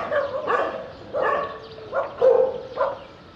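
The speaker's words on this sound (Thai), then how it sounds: "ก็บรรดาสุนัขนี่จะเข่าหอนตลอดครับ" Dogs at a Thai dog care center in Nakhon Pathom let out a string of barks and drawn-out yelping cries, about five separate bursts at moderate distance, with quiet gaps between them and no speech.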